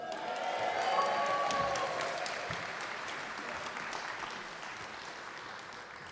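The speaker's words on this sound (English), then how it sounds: "I'm sure the next one I'll have the biggest cheer, but you've got the most fans here today, is Breezy Willow." An indoor audience claps steadily at an awards-style event, the applause strongest early and then slowly fading over several seconds, with a few faint cheers.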